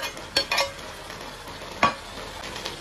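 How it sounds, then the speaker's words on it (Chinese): Minced garlic stir-fried in a wok with cabbage, a low sizzle broken by a few sharp metallic scrapes and clanks of the spatula, no speech. "放入蒜末"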